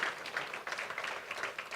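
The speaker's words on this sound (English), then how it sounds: "Can we give him a round of applause?" A summit audience gives a round of applause, heard as brief, quiet, fairly distant clapping.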